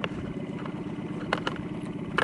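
Outboard engine on a small inflatable fishing boat running steadily at close range, a low continuous mechanical drone with a light clattering texture and a few brief higher bursts over the top.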